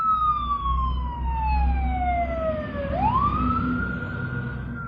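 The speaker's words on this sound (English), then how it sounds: "That was a fire truck that passed by" A fire truck siren passes close by outdoors near a laundromat, its wailing tone sliding downward then rising again as it goes past over street traffic noise.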